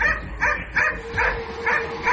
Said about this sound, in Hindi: जोर जोर से किसी के भौंकने की आवाज आई